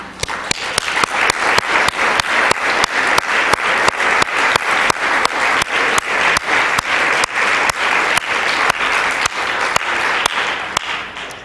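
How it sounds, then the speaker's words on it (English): An audience at a college address gives steady, full applause, dense clapping with a faint rhythmic pulse running evenly throughout, loud and close without speech over it. "give yourselves a round of applause"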